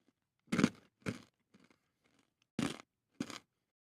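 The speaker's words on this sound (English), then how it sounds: "Stop chewing in my ears." Crunchy food being chewed close to the microphone, four or five loud crisp bites in an uneven rhythm separated by short quiet gaps.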